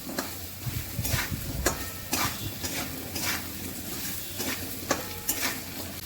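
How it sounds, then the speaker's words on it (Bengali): Ground chilli, coriander and cumin powders stir-fried in a pan for an ol (elephant foot yam) and prawn curry, with repeated scraping strokes of a utensil against the metal over a low sizzle, close and steady, no talk. "এবার একটু কষিয়ে নেব।"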